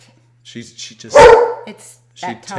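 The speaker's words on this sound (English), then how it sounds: "we're sorry about the barking" A dog barks in short bursts indoors, loud and close, with people talking over and around it.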